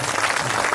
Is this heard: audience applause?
yes